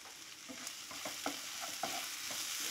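Turmeric and chili powder sauté in a pan: a steady soft sizzle with quick scraping taps of a spoon stirring at an uneven pace, close by, with no talk.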